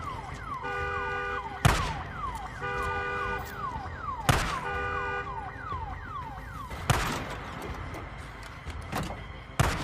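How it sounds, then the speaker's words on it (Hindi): Car alarm blaring in the zombie video game Days Gone, a repeating siren-like wail with pulsing tones, punctuated by several sharp loud bangs at regular intervals, no talk. "मैं अलार्म बंद करके आता हूं"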